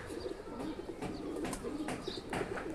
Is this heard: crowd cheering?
no